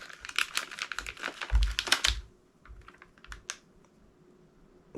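A soft plastic fishing lure package torn open by hand, a quick cluster of crisp crinkles and clicks up close, then a few scattered rustles trailing off into quiet.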